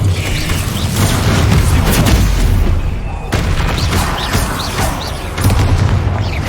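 Confringo fire-blast spells from Hogwarts Legacy combat go off in a dense run of loud booming bursts over a continuous roar of game action, with several sharper impacts standing out.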